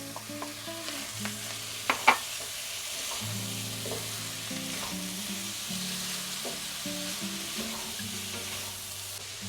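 Chopped tomato tumbling into a pan of ground beef with seasoning, a steady close sizzle of frying meat under repeated stirring scrapes, with a couple of sharp clacks of the spoon against the pan near the start.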